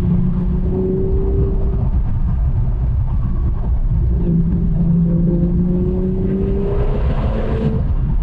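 A 1996 Porsche 911 Turbo of the 993 generation, tuned to about 450 horsepower, accelerates hard in third gear on open roads. The engine note climbs steadily as the turbo builds boost, heard loudly from inside the car without speech.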